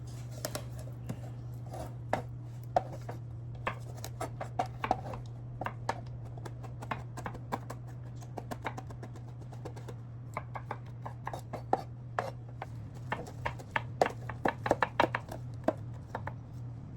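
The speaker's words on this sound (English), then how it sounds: "my mom is going to cut up the rosemary" Fresh rosemary and garlic are cut up for garlic bread, giving a run of quick, faint knife taps and snips against a steady low hum, with no talking.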